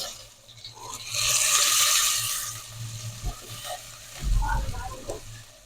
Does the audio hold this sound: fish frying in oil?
yes